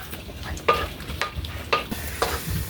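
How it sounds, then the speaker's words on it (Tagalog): Garlic sautéing in a frying pan gives soft, steady sizzling, with a few short stirring scrapes of a utensil against the pan at irregular intervals, quiet and close. "So, ayan, mag-gisa na tayo."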